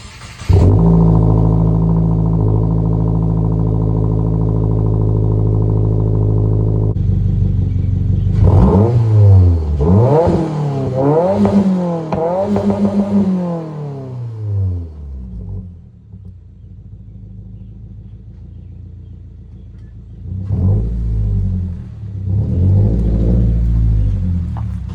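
A 2022 Subaru WRX with an AWE Track Edition 3-inch exhaust, idling with a deep steady drone, then revved sharply several times in quick bursts. A final pair of revs comes after a quieter pause, all loud and close.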